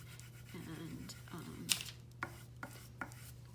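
A wooden spoon rubs over paper laid under a small sheet of torn newsprint, burnishing a monotype print with two soft scraping passes, followed by a few light taps and scuffs, close and quiet.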